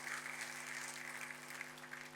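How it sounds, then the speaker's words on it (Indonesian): Faint, distant applause from a church congregation, a soft continuous patter over a low steady hum. "Tepuk tangannya boleh paling meriah buat Tuhan kita"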